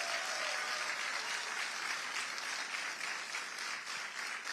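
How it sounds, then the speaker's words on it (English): An audience applauds a congressman at a political event in Washington, a steady broad wash of clapping that holds at an even level from start to finish with no voices over it. "Let's give him another round of applause."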